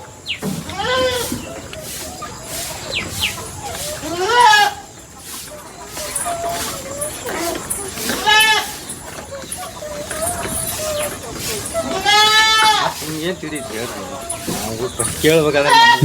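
Young goat kids bleat repeatedly in a home goat-rearing pen, their cries rising and falling close by, mixed with farm animal calls including clucking chickens.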